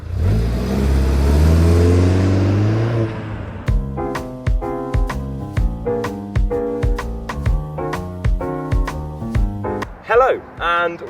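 An Audi TT with a starter motor accelerates on a race track, its engine rising in pitch for a few seconds before music with sharp rhythmic beats takes over.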